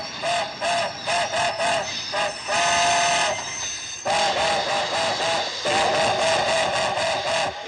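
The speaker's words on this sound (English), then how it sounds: "This is a military supply train en route from Kyoto to Tokyo." A steam-era military supply train from 1955 Japan rolls along, rhythmic chugging bursts and clattering wheels with stretches of sustained whistle-like tone, loud and close throughout.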